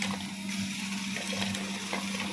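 Water, a liter or more, running steadily into a pot of sautéed chicken, a continuous close gushing pour with a low steady hum beneath and no talk.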